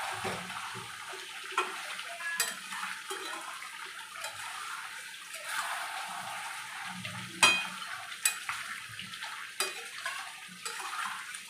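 Chicken curry with potatoes bubbling hard in a pot, a steady wet sizzle and rolling boil with scattered pops and stirring clatter, close and continuous with no voices.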